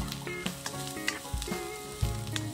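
Chopped onion and ginger sautéing in a pan for a stew, a bright crackling sizzle broken by a few dull knocks and stirring scrapes, close and alone.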